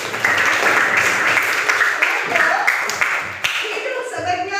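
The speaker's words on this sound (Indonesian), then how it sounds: "Tepuk tangan dulu" A classroom of students bursts into a short round of clapping for a classmate during a lesson on the human respiratory system. The claps are close and uneven, with voices chattering over them.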